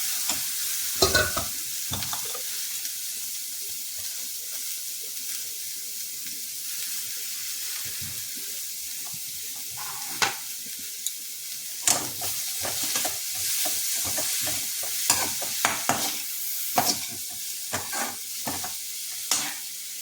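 Water poured into a hot pan of chili powder masala, which sizzles and hisses loudly up close while a spoon stirs and scrapes in quick, uneven strokes.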